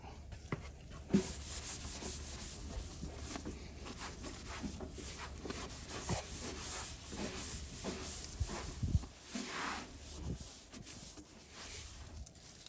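Cloth wiping clay bar residue off the paint of a Chevy Camaro SS, heard as soft, close rubbing and swishing strokes with a few light bumps, quiet and continuous.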